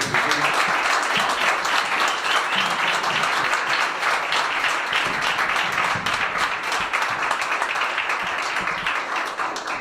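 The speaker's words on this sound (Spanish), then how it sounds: "Vamos a pedir un aplauso para el compañero" Steady audience applause at a book presentation, sustained dense clapping from a room full of people continuing evenly throughout.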